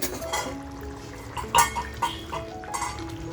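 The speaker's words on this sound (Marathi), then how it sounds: "झाकण खोलून बघूया." A metal lid lifted off a pot of spicy village-style vazdi masala simmering on a low flame, a couple of sharp clinks and a rattle over soft cooking background.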